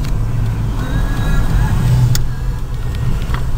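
A 2003 Toyota RAV4 on a test drive, heard from inside as a loud, steady low road and engine rumble with no talk.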